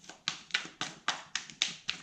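A deck of tarot cards being shuffled in a quiet room, with about eight crisp riffling bursts in an even rhythm, close and soft, with no talking.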